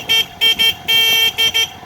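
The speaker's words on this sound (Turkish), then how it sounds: "Korna" A Mondial 50 ZNU motorcycle's horn honks in five short, loud blasts close by, with one longer blast in the middle and brief gaps between them.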